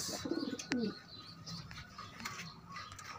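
Pigeons kept as flyers coo close by in a couple of short soft bursts near the start, followed by faint chirps and quiet background noise.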